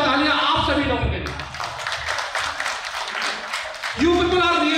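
Applause from an audience at a franchise business event rises in a dense burst between voices, with speech before and after it.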